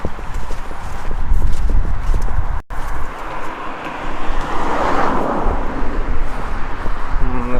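Horse hooves clip-clop steadily in Garreg, Wales, over a loud, busy background with engine rumble and traffic-like noise throughout.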